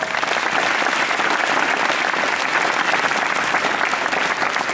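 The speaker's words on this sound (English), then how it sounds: "So give a round of applause" An audience at an educational gathering welcomes a guest speaker with loud, dense, sustained applause that fills the whole stretch without a break.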